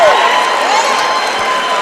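A large crowd in a gym at a high school basketball regional game, a loud dense wash of murmuring voices and cheering that carries on steadily throughout, with shouts rising above it.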